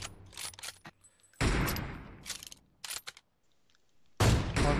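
Video game gunfire from an AWM sniper rifle and an M249 machine gun: sharp shots and bursts of automatic fire in separate loud blasts, with quiet gaps between and a final heavy burst.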